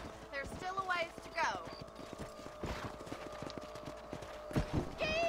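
A horse clip-clops and gallops through a ranch property in Red Dead Redemption, steady hoofbeats close by under intermittent talk, with a horse whinny partway through.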